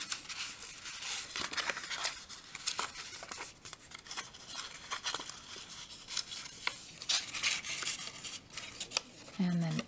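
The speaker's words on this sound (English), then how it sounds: "And then fold along each of these score lines." Paper being folded along score lines into a reindeer box: dry crinkling, rubbing and creasing noises in irregular bursts, close and fairly quiet, with no voice over them.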